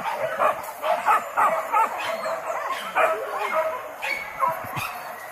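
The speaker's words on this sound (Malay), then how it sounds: "Itu terlancuk anjing." Hunting dogs bark and yip in repeated bursts during a wild boar hunt in the forest near Nagari Atar, several dogs at moderate distance, with faint voices mixed in.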